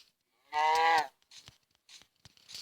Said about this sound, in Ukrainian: зараз корова нападає